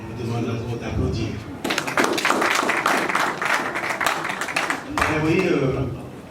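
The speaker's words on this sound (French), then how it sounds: "On me demande encore d'applaudir." A conference audience at a national museum breaks into dense, loud clapping for about three seconds. Talk and background murmur are heard before and after the applause.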